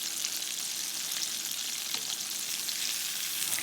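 Catfish frying in hot oil, a steady dense crackling sizzle with fine popping bubbles that holds at an even level throughout, close and alone with no voices.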